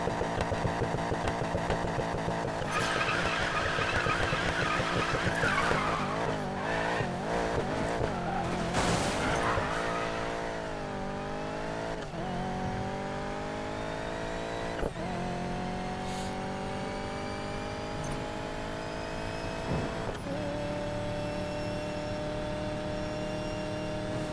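A race car in Need for Speed Payback runs flat out on the road, its engine a loud, continuous high whine that climbs and drops through gear changes, with faint tire squeal and no talking.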